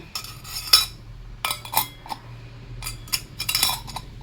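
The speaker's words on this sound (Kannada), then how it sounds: "ಈಗ ಇದ್ರ ಒಳಗಡೆ ಈ ಸ್ಟಾರ್ ಪ್ಲೇಟ್ ಏನಿದೆ ಇದನ್ನು ಹಾಕೋಣ" A metal star plate is fitted into a chakli press, giving several sharp metallic clinks and scrapes in separate bursts, close and clear with no talking.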